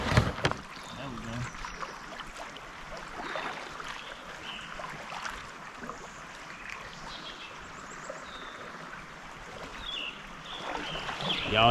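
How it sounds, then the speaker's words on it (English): River rapids on a Michigan wilderness river, heard from a kayak: a steady rushing hiss of flowing water at moderate distance, with occasional closer splashes and a voice at the start. "Y'all hear the rapids?"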